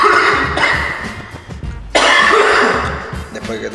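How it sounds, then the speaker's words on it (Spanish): A person coughs and clears their throat in a few close, harsh bursts on a film set during a promo shoot, with brief pauses between them. "Después que tose, ya."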